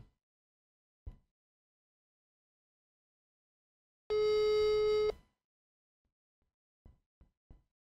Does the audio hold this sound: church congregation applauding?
no